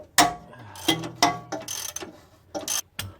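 Ratcheting wrench tightening a stud back into the cylinder head of a 1990s Toyota Previa 2TZ-FE with a blown head gasket: several short bursts of clicking close by, with brief pauses between strokes.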